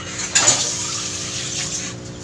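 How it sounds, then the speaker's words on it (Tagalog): Water poured into a frying pan, a short, close splashing pour with a metallic ring that runs steadily for about two seconds. "Para testing natin may tubig. Bubuhos natin."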